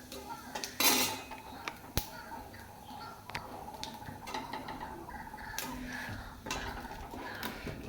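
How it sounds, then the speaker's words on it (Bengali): Cumin seeds fry in hot oil in a kadai, giving faint scattered crackles and sharp little pops against a quiet background. "জিরাটা ভাজা ভাজা করে নেব।"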